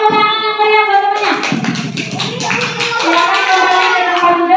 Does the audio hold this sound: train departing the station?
no